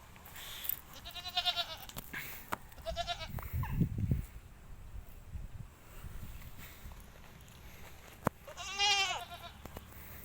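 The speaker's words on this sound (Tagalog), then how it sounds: "Ang ingay ng kambing." Goats on a small farm in Tarlac bleat a few times, wavering calls at middling distance, with quiet rustling and a soft thud in between.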